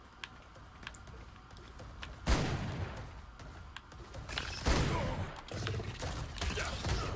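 Gunfire in Ark Survival Evolved on the Valguero map, a couple of sharp shots at around two and five seconds over a low game ambience, fairly faint and with no talking.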